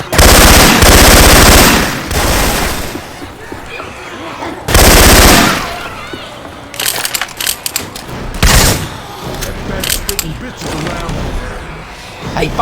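Assault rifle fire from a Syphon Filter weapon sound effect swapped into Left 4 Dead 2, loud sustained bursts with pauses between them, mixed with other game noise and faint voices.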